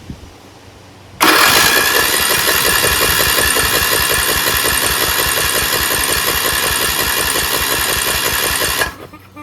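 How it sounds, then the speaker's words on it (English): A rebuilt lawn tractor engine, choked and fuelled, cranks over on its starter with a fast, even chugging that starts abruptly, holds steady and loud for about seven seconds, then cuts off without catching. "Spins pretty fast, doesn't it? It usually means you don't have any compression."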